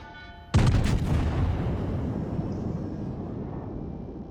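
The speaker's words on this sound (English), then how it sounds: "AA guns opening fire on the torpedo bombers coming in" Anti-aircraft guns in World of Warships open fire on incoming torpedo bombers: a sudden loud boom, then a dense, rumbling barrage of rapid shots that slowly fades, with aircraft droning faintly beneath.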